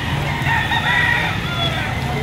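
Roosters crow and chickens cluck at a busy poultry market in Liliw, Laguna, with several birds calling at once against a constant crowd hum.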